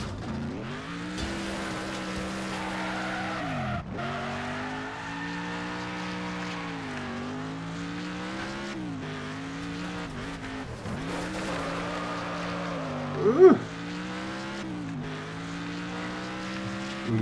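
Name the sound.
car drifting with tire skid in Next Car Game video game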